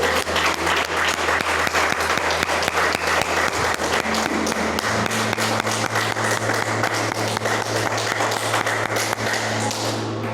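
Church congregation applauding in a worship service, loud dense clapping sustained for about ten seconds, with a low steady hum from the sound system underneath.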